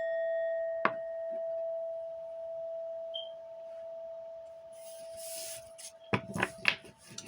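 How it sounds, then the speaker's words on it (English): A small bell is tapped once, ringing out clear and sustained with a long fading tone, followed later by a few soft knocks and light handling sounds nearby. "I'm gonna tap the bell."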